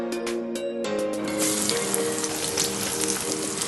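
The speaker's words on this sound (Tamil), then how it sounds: "நல்லா டீப் ஃப்ரை பொரிச்சு எடுத்துக்கோங்க." A large sliced onion deep frying in hot oil gives a steady, dense hiss and crackle that swells after a brief start, with faint tonal music underneath.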